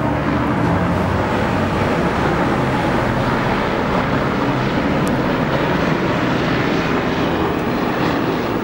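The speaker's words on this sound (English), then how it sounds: "And here comes a police helicopter for us." Police helicopter flying overhead in Los Angeles, a loud, steady, broadband rotor-and-engine roar that fills the whole stretch without pause.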